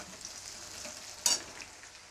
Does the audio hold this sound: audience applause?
no